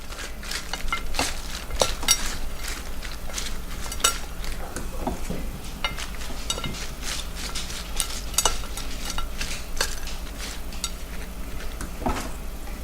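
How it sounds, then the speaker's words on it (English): Sliced onions stirred into shaken beef (bo luc lac) in a pan, a steady run of scraping, clinking utensil taps and soft sizzle, close and continuous. "And then I'm going to add some onions here, my sliced onions. Just gonna mix that up."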